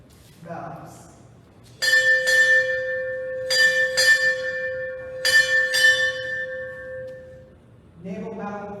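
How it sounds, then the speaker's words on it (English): Naval ship's bell struck six times in three paired double strikes at a Navy hospital change-of-command ceremony, loud, clear and ringing, with an announcer speaking before and after. "Sound 6 bells."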